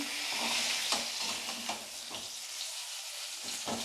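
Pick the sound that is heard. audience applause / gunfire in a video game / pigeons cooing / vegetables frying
vegetables frying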